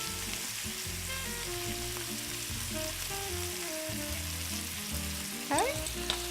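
Garlic and meat fry in a pan with a steady, close sizzle and crackle, accompanied by faint scraping, with a brief clatter near the end.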